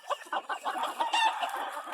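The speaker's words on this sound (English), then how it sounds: "Two blue hens with a beautiful A seal roundhead rooster." Chickens in farm pens, blue hens with an A seal roundhead rooster, cluck and call close by in a steady run of sharp, overlapping bursts, with a short crow-like cry in the middle.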